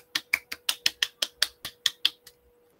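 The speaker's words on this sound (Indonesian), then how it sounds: "Tepuk tangan." Classroom applause during a peer teaching session, about a dozen sharp, evenly spaced claps from what sounds like a single pair of hands, quick and close, then stopping.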